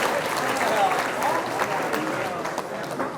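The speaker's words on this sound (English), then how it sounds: "So give them one more round of applause, please." A banquet audience at a high school football awards night claps steadily for a few seconds, a dense, even round of applause filling the room with a faint murmur of voices underneath.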